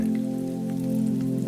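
Rain falling around a cozy cookie shop, a soft continuous hiss of drops mixed with a steady low hum, with no speech.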